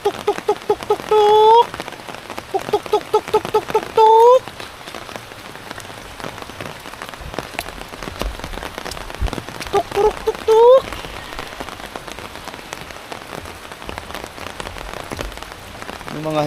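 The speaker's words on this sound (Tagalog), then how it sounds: "Ulan man. Sama lang ang panahon ngayon dahil sa bagyo." Steady rain pours down during a storm, a dense hiss of drops on surfaces that runs the whole time, with voices and a few short tonal calls rising briefly above it.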